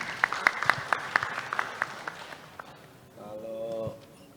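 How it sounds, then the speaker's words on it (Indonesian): Audience applause at a national seminar on dance, a short burst of sharp claps that thins out after a few seconds, followed by a voice starting to speak. "Tepuk tangan untuk Mbak Cindy"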